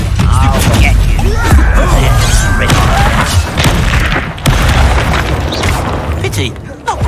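Booming explosions and crashing impacts from the Bombarda spell in the Hogwarts Legacy video game, loud and dense across the whole stretch, with combat voices and shouted incantations mixed among the blasts.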